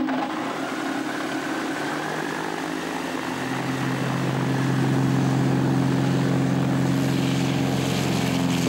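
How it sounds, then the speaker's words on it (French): Ultralight aircraft engine and propeller droning steadily during takeoff on a reconnaissance flight over a park in Niger, a loud continuous hum that deepens and strengthens partway through as the climb begins. "Ok, là on vient de décoller."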